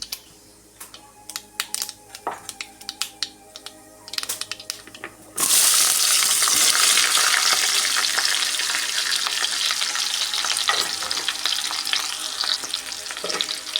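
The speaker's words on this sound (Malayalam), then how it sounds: "നന്നായി ഇളക്കി കൊടുക്കണം ഇളക്കി യോജിപ്പിച്ച്" Light clinking and scraping at first, then a loud, steady sizzle as vegetables for Kerala-style avial hit hot oil and are stirred with occasional scrapes.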